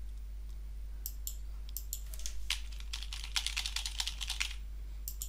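Card number being typed on a computer keyboard, a run of light, quick key clicks in uneven bursts over a steady low hum, close and fairly quiet.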